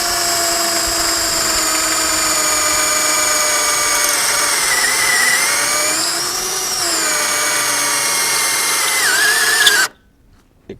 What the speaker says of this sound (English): when it comes to pocket hole joinery, I quickly found the limit of this drill.